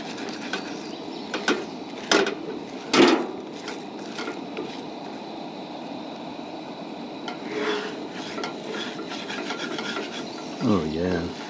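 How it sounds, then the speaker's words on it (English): Spatula scraping scrambled eggs in a pan at a campsite, giving soft rasping strokes with a few louder scrapes under a low sizzle, close and fairly quiet. "you can see that scraping off real nice, and the eggs are getting nice and fluffy"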